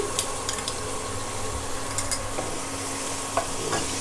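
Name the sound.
shrimp added to pan and frying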